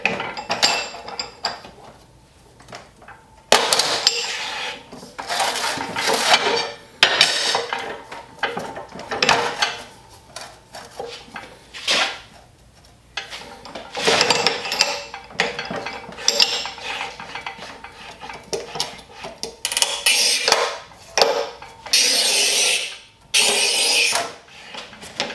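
A Rubi Magnet 710 manual tile cutter works a tile, giving repeated scraping scoring strokes and sharp clacks and snaps from the handle and bars, in irregular bursts with brief pauses between.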